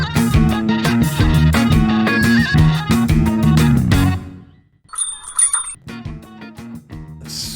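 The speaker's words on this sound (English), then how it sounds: "Sweet sounds of the chime." Shop door bell chime at a comic book store entrance gives one brief, bright ring in a gap between stretches of loud background music.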